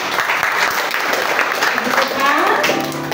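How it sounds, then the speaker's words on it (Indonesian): Elementary schoolchildren at an SD Kartika Christmas celebration in Jakarta applaud together. The clapping is a loud, dense wash, with voices talking and calling over it throughout. "Tepuk tangan semuanya"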